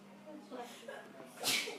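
A single sharp sneeze bursts out near the end after a brief breathy lead-in, set against a low hum in a quiet room.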